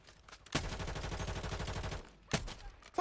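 Sustained rapid automatic gunfire from Call of Duty Warzone, a dense continuous burst lasting over a second, followed by a sharp shot or two; loud and close, with no talk over it.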